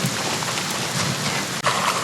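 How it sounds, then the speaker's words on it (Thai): Steady rain pours down in the Gray Zone Warfare video game, a dense, even hiss filling the whole stretch with a brief dip near the end and no talking over it. "ระหว่างทางบรรยากาศฟินมากครับ ฝนกำลังตก"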